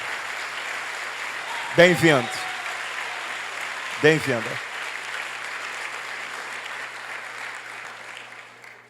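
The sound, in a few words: church congregation applause welcoming arrivals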